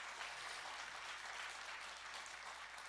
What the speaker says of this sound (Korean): 우리 목사님 잘하시도록 박수 한번 하겠습니다.